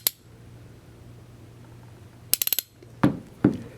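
A Popular Mechanics hand ratchet swings down under its own weight, giving a quick run of sharp pawl clicks in the middle of a quiet stretch, with a few duller knocks and clacks before and after.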